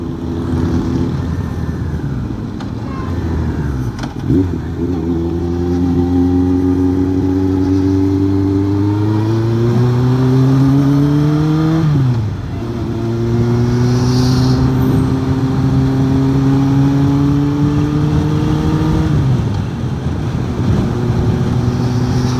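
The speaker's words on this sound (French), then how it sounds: "J'espère que vous entendez bien la moto." A motorcycle engine drones steadily, pitch rising and falling as it shifts gears while riding, loud and close throughout.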